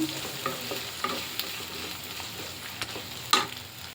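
Tomato pieces and onions fry in a pan, a steady close sizzle broken by occasional scrapes and taps of a stirring spoon, with no voices.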